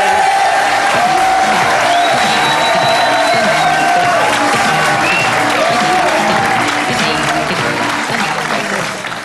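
Loud, sustained applause and cheering from a TV studio audience, steady throughout and tapering slightly at the end, with whoops and crowd noise mixed in.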